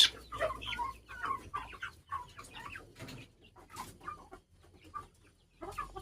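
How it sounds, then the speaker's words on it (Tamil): Guinea fowl and country chickens together, giving a busy mix of clucks and sharp calls in irregular bursts, fairly close, with quieter gaps between. "அந்த கின்னிக்கோழிக்கும் நாட்டுக்கோழிக்கும் எப்பயுமே சேர்ந்துக்கிறது இல்லை"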